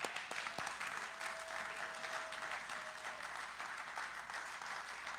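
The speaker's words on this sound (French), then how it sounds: "est-ce qu'on peut acclamer pour nous, les hommes?" A Sunday church congregation applauds and cheers, a fairly faint, steady wash of clapping and voices from a distance, sustained evenly throughout.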